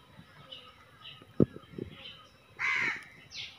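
Crows cawing at a home where food is being put out, a loud harsh call bursting out near the end with a shorter one after it, over faint background noise and a brief thump.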